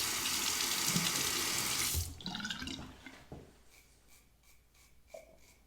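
A razor is rinsed under a running tap, a steady loud gush of water for about two seconds, then cut off, followed by a few faint drips and small clinks close by.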